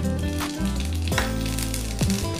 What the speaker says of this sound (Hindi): अभी मैंने सरसों और जीरा को भी उस तेल में डाल देता हूँ